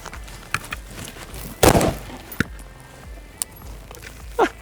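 A single rifle shot of an M855 round fired from a short-barreled SIG MCX Sphere LT at a Russian 6B47 army helmet: one sharp, loud crack in the middle, with faint handling clicks and rustle before and after.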